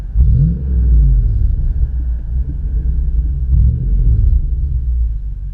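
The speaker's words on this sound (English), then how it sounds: "Put the windows down. So you can hear that exhaust." Deep, steady exhaust rumble from a 2003 Toyota Tundra SR5 pickup truck idling nearby, with a few slight surges in the low growl.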